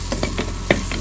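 Pork and pork ear frying in a pan, with a steady sizzle and a few soft scraping stirs across a short stretch.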